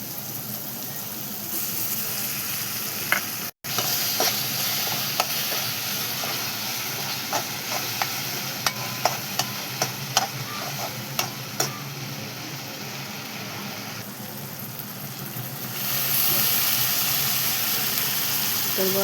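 Fenugreek greens with tomato, chillies and salt cooking in a pan, a continuous hissing sizzle broken by a brief gap and scattered scraping stir clicks, close by with no talk.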